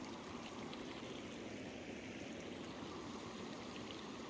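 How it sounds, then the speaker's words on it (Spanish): Mountain stream swollen by snowmelt and rain, a steady broadband rush of water at night, constant and fairly faint, heard from a distance with no voices. "va a ser el arroyo que viene, porque puede venir el arroyo ahorita bajando"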